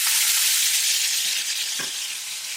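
Pasta hitting a hot pan for carrot fusilli, giving a loud, steady frying sizzle that fills the whole stretch, with faint stirring clicks near the end and no talking.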